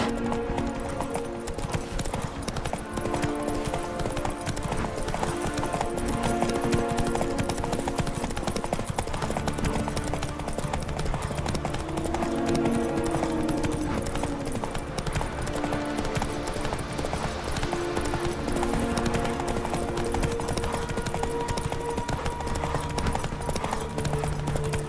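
Hooves of a horse galloping in a race in the Witcher 3 video game, a rapid continuous clip-clop rhythm held throughout, with a dense bed of game sound around it and faint voices.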